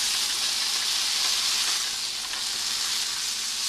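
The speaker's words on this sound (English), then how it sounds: "I made a nice sizzle." Steady, dense sizzling of a Cuban sandwich frying in a pan under a pressing plate, loud and close with a continuous hiss and no voices.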